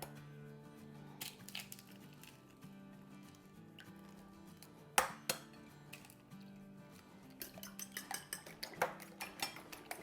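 Two eggs are beaten in a bowl for aloo kababs, heard as light, quick clinks and taps of utensil against the bowl, sparse at first and then a faster, busier run of beats near the end, close and fairly soft.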